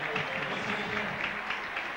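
Rugby league stadium crowd at a Bradford versus Wigan match in 1996, a steady roar with clapping and cheering throughout, loud and continuous with no single voice standing out.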